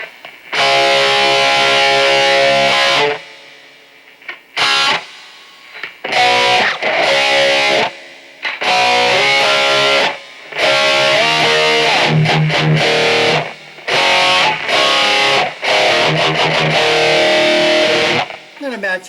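An electric guitar with a crunchy distorted 1980s rock tone and reverb, delay switched off, plays bursts of chords and riffs that ring out and stop, with short silences between phrases.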